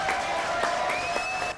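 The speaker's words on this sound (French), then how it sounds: "Applaudissements, s'il vous plaît." Studio audience applause on a French TV show, steady clapping at a moderate level with a sustained tonal hum running underneath.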